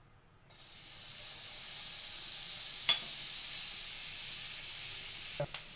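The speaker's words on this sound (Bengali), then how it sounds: "কড়াই গরম হয়ে গেছে, বাটার দিয়ে দেবো" Butter sizzles in a hot kadai for butter chicken, a steady close hiss that starts abruptly and holds throughout, with a couple of brief clicks and no talk.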